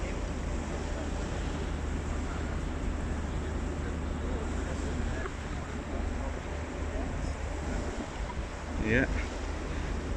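A sailing boat heads out of a harbour with steady wind rumbling on the microphone and water washing along the hull, and a voice says a brief word near the end.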